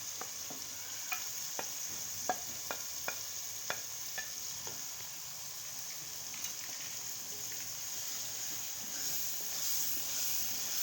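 Half a kilo of chicken keema sizzles steadily in a hot pan while being stirred for a shimla mirch dish, a constant fry hiss broken by sharp clicks and scrapes of the spoon, with no talking.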